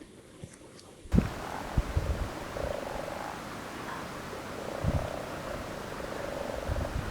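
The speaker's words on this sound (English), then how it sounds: "There's loads of them and they're all croaking." Many frogs croak together in a winter setting at Glenfinnan in the Scottish Highlands, a dense, steady chorus of overlapping calls with a few louder thumps nearby.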